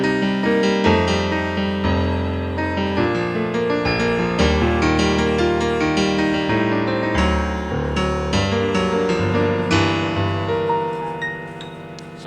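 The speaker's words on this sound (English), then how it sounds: "So the first sound example I'll show you is the Grand Piano DS." Grand Piano DS patch on a Roland Juno-DS keyboard playing a full, flowing passage of chords and melody, loud and close, sustained for the whole stretch with no talking.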